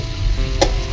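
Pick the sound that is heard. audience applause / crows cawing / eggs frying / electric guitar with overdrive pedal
eggs frying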